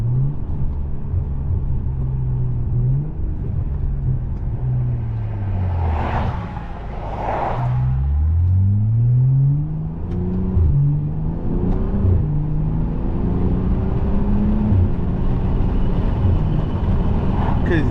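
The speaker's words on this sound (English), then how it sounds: "Because that it's a mix of the charge pipe and boost pipe with the intake making the sound." A BMW F10 sedan builds boost, with charge pipe, boost pipe and intake noise over a loud steady engine drone inside the cabin. Rising and falling tonal sweeps climb through the gears over about eighteen seconds, with brief voices.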